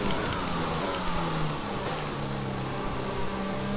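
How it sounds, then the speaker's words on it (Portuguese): Formula 1 race car in the F1 2020 video game braking with the engine as it downshifts, a continuous mid-loud engine drone with shifting pitch steps and no talking. "Eu vou atolar o pé no freio e vou soltar ele aos pouquinhos e o freio motor reduzindo marcha"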